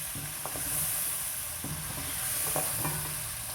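Masala stirring and sizzling in a pan for mutton siri paye, a steady soft frying hiss with scattered scraping strokes of the spoon, fairly quiet and close, no talking.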